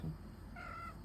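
A male Maine Coon cat gives a single short, faint meow indoors, brief and mid-pitched, with no talk over it.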